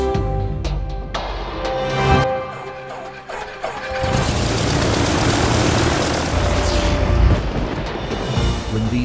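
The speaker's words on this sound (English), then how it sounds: "These engines roar" Aircraft engines roar loudly, with propeller droning and rumbling that swell into a dense, sustained wash of sound after a few sharp clanks and knocks at the start.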